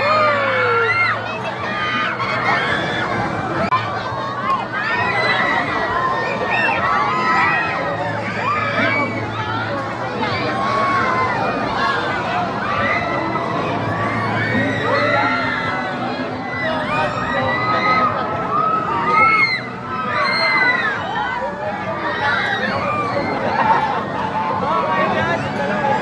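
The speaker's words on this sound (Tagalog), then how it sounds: "Sigawan sila." Screams and excited shouts from a crowd at a fiesta carnival in Subic, a continuous babble of voices with children yelling and cheering throughout, close and loud, mixed with people talking nearby.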